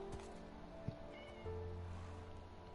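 Cat meowing inside the video game Minecraft, a few short meows over a steady background hum, fairly close and clear.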